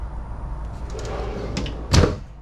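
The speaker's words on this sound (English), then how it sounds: "So the drawers, you see how deep they open up?" A kitchen drawer in a camper slides and shuts with a sharp thud near the end, preceded by faint rattling and sliding clicks, close and indoors.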